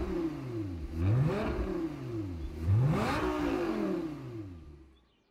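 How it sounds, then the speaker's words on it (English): A car engine revs hard in Gran Turismo 7, where the cars include a new Ferrari and a Lamborghini Gallardo. It climbs twice in rising sweeps with whirring overtones, loud and close with no voices over it, then falls away near the end. "It sounded kind of quiet at first, but then it just needed to get the revs up."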